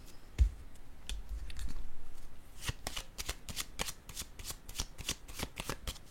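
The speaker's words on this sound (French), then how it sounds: "Je vais prendre une petite carte ici." Soft crisp rustle of playing cards being handled and drawn from a deck, a series of quick light flicks and slides close by, with no talk.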